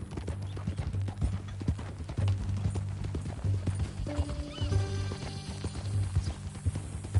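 Horse hooves clip-clop at an easy walking pace in the Red Dead Redemption 2 game world, with soft ambient outdoor noise and a brief musical tone near the end.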